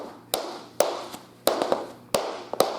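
Tap shoes striking a floor in a tap dance class, sharp metallic toe taps alternating with brushing heel scuffs in a loose repeating rhythm of about eight close, crisp hits with brief ringing decays.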